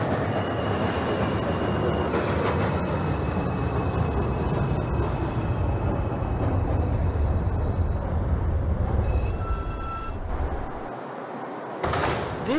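A Brooklyn-bound 2 subway train runs in the OpenBVE train simulator game, with a loud continuous rumble of wheels on track, occasional squeals and clunks, and a brief dip near the end.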